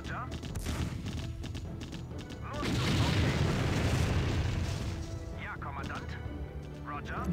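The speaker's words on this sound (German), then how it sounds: "Jetzt bomben sie meine ganzen Panzer weg." Bombs burst over tanks in Empire Earth, a heavy rumbling blast swelling in the middle amid scattered crackling impacts, with someone talking over the battle before and after.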